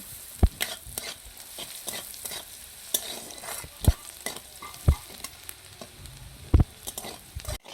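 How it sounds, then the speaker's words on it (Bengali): Onions frying in a pan until browned for a papaya and egg dish, a steady sizzle broken by scattered sharp clicks and scrapes of stirring, with no voices. "পেঁয়াজটাকে আমি লাল লাল করে ভেজে নেব"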